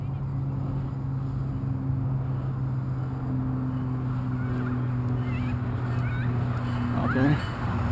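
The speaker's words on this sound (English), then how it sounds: "Canadian geese. They saw the aircraft and they're freaking out." Distant Canada geese, startled by a hexacopter drone, honk a few times near the end, faint over a steady mechanical hum.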